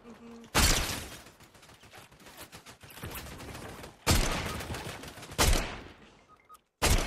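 Fortnite gunfire coming from several directions, bursts of rapid shots and loud single blasts at irregular intervals, some close and sharp, with short quieter gaps between them.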